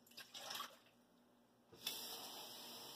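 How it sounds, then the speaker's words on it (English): Water pours from a measuring container into a cooking pot for brown rice, two short splashy pours with a pause between, fairly quiet and close, with no talking. "So we're going to use 2 of these for water."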